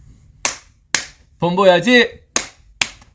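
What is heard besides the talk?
hands clapping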